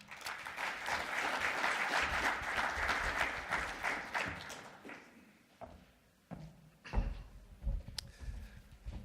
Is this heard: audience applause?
yes